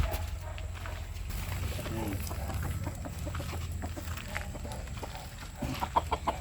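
Chickens cluck intermittently at a distance over a low background hum, with faint scattered farmyard noises.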